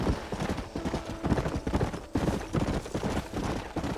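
A horse gallops in the video game Red Dead Redemption, with rapid, close hoofbeats pounding in a steady driving rhythm throughout.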